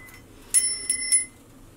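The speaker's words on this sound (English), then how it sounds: "Every time you hear the bell ring, an angel gets its wing." A small Christmas bell rings in three quick, bright, clear strikes that leave a short shimmering ring over a quiet room.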